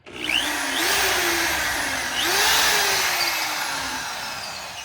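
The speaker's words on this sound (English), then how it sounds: "we're gonna drill another hole for that anchor down there." A power drill whines steadily in two long bursts, revving up and bogging slightly as it bites into a hard wall surface, close and loud.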